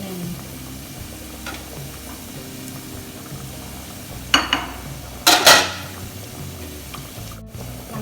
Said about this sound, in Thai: เอากระเทียมลงแล้วเนาะคั่วให้กระเทียมหอมนิดนึงเนาะ